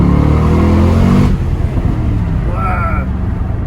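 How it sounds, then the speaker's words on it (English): A Jaguar XFR V8 with a tuning remap roars loudly at close range, a dense engine rumble that drops off partway through and settles to a lower hum, with a faint tone near the end. "Why do us men love the sound of a V8?"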